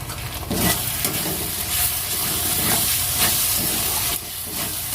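Spice paste going into a hot pan with partly fried tomato, giving a steady, loud sizzle and hiss with stirring scrapes, a brief dip near the end, no voices.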